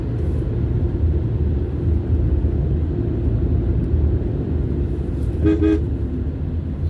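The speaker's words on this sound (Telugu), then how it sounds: "బస్సు వస్తుంది చూడండి కొండపై నుండి బస్సు వస్తుంది" A bus descending the hill road toward Simhachalam, engine rumbling steadily and fairly close, with a short horn toot near the end.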